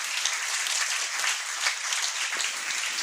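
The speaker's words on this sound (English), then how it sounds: "So may I request all of you to give a huge round of applause." An audience at a school felicitation ceremony for Class X achievers applauds their supervising teacher, a steady, even round of clapping heard from a distance at moderate volume, with no talking.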